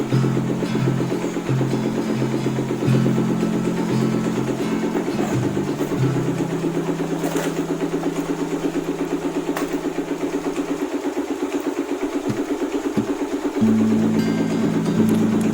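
A Suzuki Thunder 250 motorcycle engine with an ignition fault idles steadily and close by, a low throbbing hum that holds its pitch with slight shifts, with no voices.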